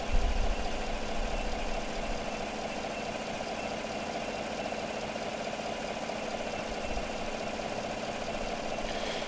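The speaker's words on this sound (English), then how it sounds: "Belt noise." A car engine runs steadily during a 12V battery charging test, a constant close idle hum with belt noise, unchanging in level with no talk.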